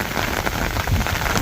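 Steady heavy rain pours onto surfaces outdoors in a village during a storm, a dense continuous hiss with no voices.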